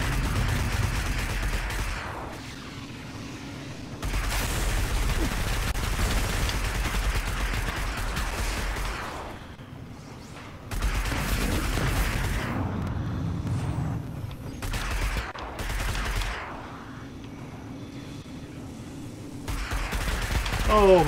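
Bursts of enemy gunfire ring out in Destiny, the sci-fi shooter, in loud repeated volleys separated by brief lulls, with a game soundtrack and effects beneath and some faint talk mixed in.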